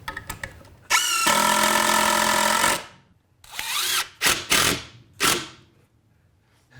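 A power drill drives screws into plywood in close, loud bursts: one long whining run of about two seconds, then several shorter spurts with pauses between them.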